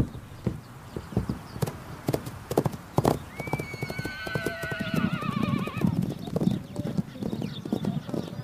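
Horses, known locally as Taki, roaming free on open parkland make a steady clip-clop of hooves, while one horse gives a long, wavering neigh partway through over the footfalls.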